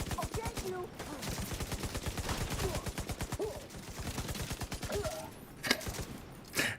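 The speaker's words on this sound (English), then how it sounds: "Shooting forward, I shot the guy behind me because he was in the camera" Gunfire in a video game, rapid continuous automatic shots at close range, followed by a couple of separate louder single shots toward the end.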